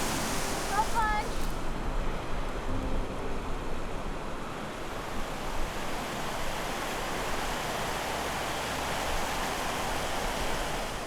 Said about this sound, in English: That right there is some very, very intensely cold water.